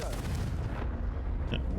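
A Confringo explosion spell bursts in Hogwarts Legacy, a loud, close, booming blast that rumbles and fades, followed by a brief bright ping near the end.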